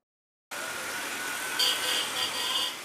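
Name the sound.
Okada motorcycle taxi engine in Lagos traffic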